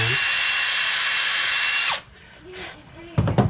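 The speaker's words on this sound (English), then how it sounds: "drill a little pilot hole, straight as I can" A power drill drilling a pilot hole whirs steadily at high speed for about two seconds, then stops, followed by faint handling noises and a brief clatter.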